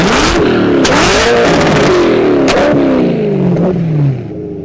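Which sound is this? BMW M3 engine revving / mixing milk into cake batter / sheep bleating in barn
BMW M3 engine revving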